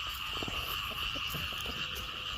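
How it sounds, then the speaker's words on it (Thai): Frogs and toads calling at night in flooded rice fields after rain, a dense steady chorus of overlapping croaks with a constant high insect-like trill behind it. "คืนนี้แต่ กบเขียดออกลาย"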